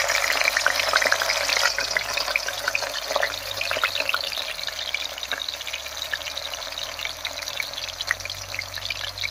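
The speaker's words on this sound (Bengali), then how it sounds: "তেল গরম হয়ে গেছে, এবার তেলের মধ্যে দিয়ে দিচ্ছি একটা একটা করে।" Lentil-filled gourd leaf parcels (paturi) fry in hot oil, a steady, close, dense crackling sizzle that carries on without pause and with no talking.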